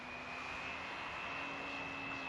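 An E-Flite Extra 300 RC plane flying inverted gives a steady, high electric motor whine with a constant tone, close and continuous throughout.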